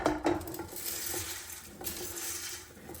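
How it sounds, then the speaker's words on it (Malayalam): Rice tipped into a pan of oil with fried cardamom pods and stirred, giving close scraping, clinking utensil sounds over a soft steady hiss, with no talking. "ഇനി നമുക്ക് ഈ റൈസ് ഇട്ട് കൊടുക്കാവേ"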